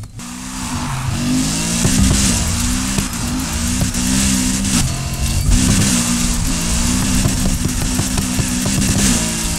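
A tuned car engine in the Need for Speed Heat racing game, loud and continuous, with repeated revs rising and falling as it accelerates and shifts, plus raspy exhaust and some tire squeal.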